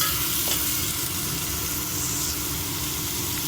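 Chopped onion sizzles and is stirred in hot oil in a pan for home-made egg fried rice, cooking until light golden; a steady, close frying hiss with no talking.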